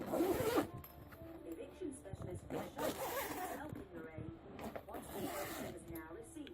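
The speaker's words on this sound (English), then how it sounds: "it has an inside cover that would zip up here like this" A zipper runs along the inside cover of a travel bag, several drawn-out rasping pulls at close range, with a person talking over them.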